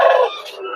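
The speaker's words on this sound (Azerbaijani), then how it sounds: "Ya xoruzumuz var burada" A rooster crows once at a busy poultry market in Sabunchu, a short loud call that trails off quickly with no talking over it.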